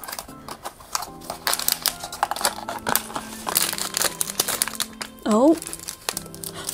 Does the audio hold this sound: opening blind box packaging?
yes